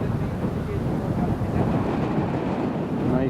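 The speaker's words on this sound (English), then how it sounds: "The wind has picked up quite a bit." Gusting crosswind at Newcastle International Airport, a loud continuous rumbling roar buffeting the microphone, no talk.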